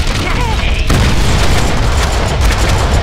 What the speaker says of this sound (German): Da ist eine Granate.